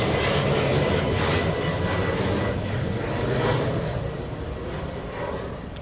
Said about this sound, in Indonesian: Itu pesawat ke Manchester itu.